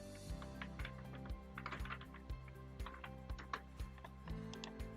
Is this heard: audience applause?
no